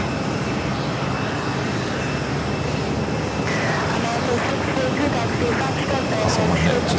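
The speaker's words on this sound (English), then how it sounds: "There's some JetBlue action. That Airbus A220-300." JetBlue Airbus A220-300 airliner at JFK airport, a continuous broadband jet engine roar holding steady, with people talking over the noise.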